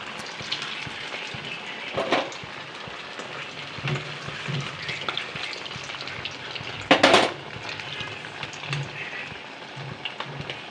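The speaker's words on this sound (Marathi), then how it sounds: "हे थोडे वडे आपले तयार आहेत हे आपण तळून घेऊया" Sabudana vadas, crisp tapioca-pearl patties, frying in hot oil with a steady soft sizzle throughout, a few louder crackling bursts and a brief sharp clatter midway, no voices.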